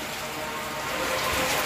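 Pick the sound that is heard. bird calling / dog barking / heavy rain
heavy rain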